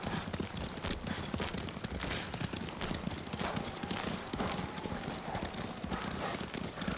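Horse hooves clip-clop steadily in Ghost of Tsushima, a dense continuous patter of several horses close by, with game ambience and scattered sharp cracks behind.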